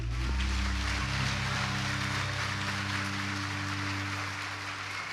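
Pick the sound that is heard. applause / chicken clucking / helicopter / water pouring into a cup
applause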